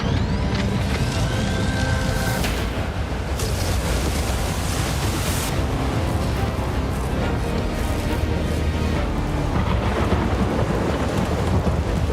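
The Thunder Matrix skill effect in the Reign of Nightfall video game unleashes a dense, continuous crackle and roar of thunder, with sharp bright zaps and bursts over a heavy, rumbling bed. The effect plays loud throughout.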